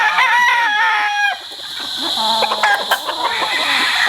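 A Kearney White Hackle gamefowl rooster crowing loudly and close by, with a drawn-out crow at the start followed by clucks and other fowl calls in the background.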